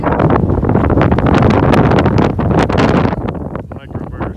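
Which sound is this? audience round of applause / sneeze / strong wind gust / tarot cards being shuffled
strong wind gust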